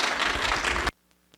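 Audience in a hall applauding to welcome a speaker at a talk on Mexican mining, a dense, loud burst of clapping that cuts off abruptly partway through, leaving near silence.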